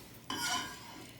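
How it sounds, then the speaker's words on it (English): Butter foams and sizzles in a hot omelet pan over a high flame, a steady soft hiss that rises suddenly and holds close up, with no talk. "pan's hot, butter's foaming"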